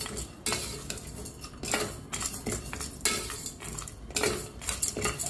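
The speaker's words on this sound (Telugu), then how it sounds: "ఇప్పుడు ఒక గిన్నెలో డ్రై రోస్ట్ కోసం ఇవన్నీ వేసేసి ఆయిల్ వేయకుండా జస్ట్ డ్రై రోస్ట్" Chopped tomatoes dry-roast in a pot with no oil, and a metal spoon scrapes and clatters against the pot in repeated, uneven strokes, fairly close and with no talk.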